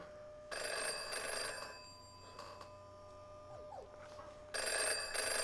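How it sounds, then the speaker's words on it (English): A stapler in the Virtual Virtual Reality video game rings like an old telephone bell, two loud trilling rings separated by a pause with faint electronic game sounds between them. "The stapler's ringing."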